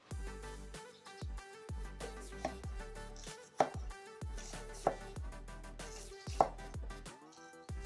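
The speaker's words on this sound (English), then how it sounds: "And you want to just cut your onions into like that width." A knife chopping yellow onions into wide strips on a cutting board, a steady run of crisp thuds with a few sharper, louder strikes, close and alone without speech.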